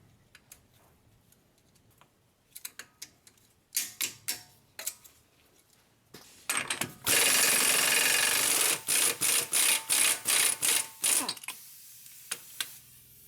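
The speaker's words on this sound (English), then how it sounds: "So we got the axle nut removed." An axle nut comes off a Nissan Murano during a wheel bearing and drive axle job: scattered ticks and clicks build into loud, rapid bursts of a power tool rattling, then a few short clattering hits.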